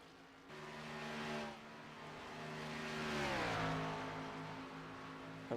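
Race car engines whine in an Xfinity Series racing video game at Homestead, a continuous droning tone that swells and dips in pitch as the cars accelerate and pass.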